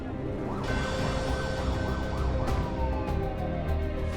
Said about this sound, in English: there's a bit of noise from our siren and our talking